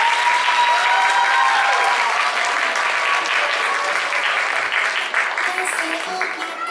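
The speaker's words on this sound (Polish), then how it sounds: "Jeszcze raz wielkie brawa." Warm applause from an audience at a children's performance event, steady and full clapping from many hands that continues without a break and tapers slightly toward the end, with a faint background hum.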